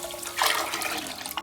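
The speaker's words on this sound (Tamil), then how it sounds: "5 கப்பு தண்ணி ஊற்றிக்கலாம்." Water poured into a pot of rice and split moong dal for pongal, a brief steady splashing gush lasting just over a second, close and alone.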